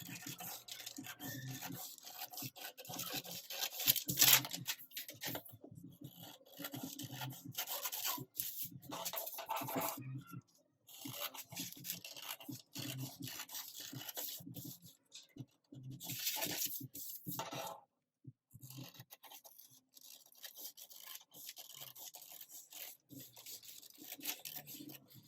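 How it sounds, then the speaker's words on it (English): Paper-cutting scissors snipping through a paper pocket pattern, a close run of scratchy rasping cuts broken by short pauses, with no voices. "Use a pair of paper cutting scissors to cut out the pattern."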